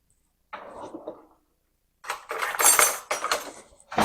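A pizza cutter rolls and crunches through a stiff beef jerky pie crust in a few loud, scraping bursts after a brief softer scrape, close up with no talking.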